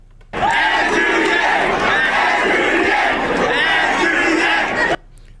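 A large crowd at a campaign event roars and chants loudly from a played recording, a dense, sustained cheer that starts abruptly and cuts off just as suddenly.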